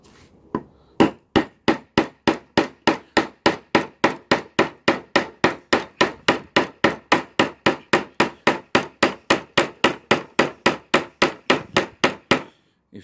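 A Schnitzel UNU pointless German knife cutting through a piece of wood, heard as a long, evenly spaced series of about forty sharp knocking strikes, close and loud, with no talking.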